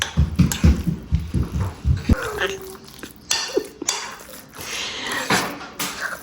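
Clinking and scraping of a utensil against a bowl, irregular stirring knocks up close, with a few brief louder clatters in between.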